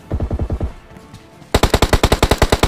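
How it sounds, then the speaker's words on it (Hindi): Rapid automatic gunfire in the mobile shooter game BGMI comes in two bursts of evenly spaced loud shots, a shorter duller burst first, then a brief pause, then a sharper, louder volley. "जैसा कि आपने सुना गोली चलने की आवाज़ आई"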